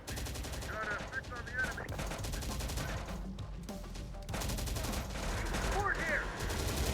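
Heavy automatic gunfire strikes a vehicle in the video game Terminator: Dark Fate - Defiance, with dense, continuous rattling bursts that pause briefly midway, under faint game radio voices.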